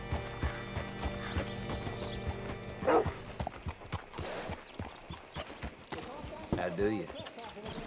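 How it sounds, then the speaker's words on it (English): Horse hooves clip-clop in Red Dead Redemption 2, a steady rhythmic clatter at close range, with music and people talking over it. "Hitch your horse up here."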